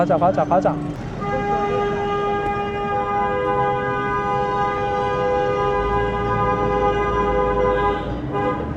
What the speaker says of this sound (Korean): 평생 들을 경적 소리 이집트에서 다 들었습니다